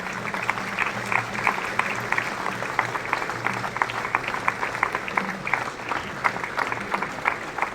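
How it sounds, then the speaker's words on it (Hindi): Sustained audience applause fills a hall at a book festival in Srinagar, a dense steady patter of many hands with brief louder claps and a faint voice underneath. "तालियों की आवाज़ रुकना नहीं चाहिए"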